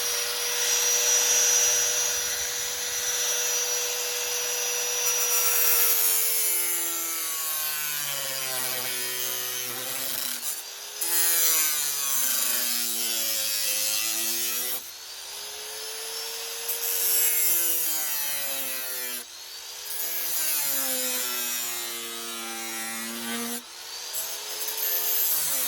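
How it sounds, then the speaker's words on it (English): A cutoff wheel grinds through stainless steel sheet, tracing leaf shapes: a loud, close, continuous whine that repeatedly sinks and rises in pitch as the wheel loads up in the cut, with brief pauses between passes. "I'm just going to use the cutoff wheel here and start tracing this line out here"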